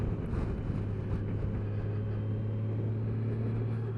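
A Honda Gold Wing motorcycle engine pulls in second gear, giving a smooth, steady low drone with a constant hum and wind rush throughout, no talking.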